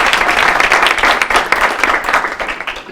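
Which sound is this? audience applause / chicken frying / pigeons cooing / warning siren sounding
audience applause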